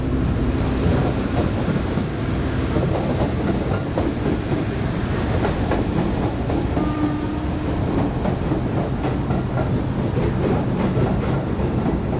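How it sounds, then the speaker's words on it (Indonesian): A diesel-hauled passenger train, the Argo Dwipangga with locomotive CC 206 13 80, rumbles steadily past up close, with continuous rolling noise, rattling and a faint clickety-clack throughout. "Ini dia lokomotif dinas kereta api Argo Dwi Pangga DC 206 1380 depo induk Cipinang"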